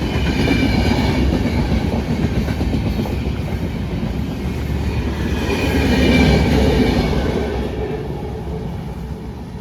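A train passes near a village fishing spot, with a loud, steady rumble and clattering wheels filling the whole stretch and swelling slightly partway through. No one speaks.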